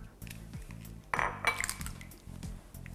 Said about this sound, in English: Gonna break the eggs.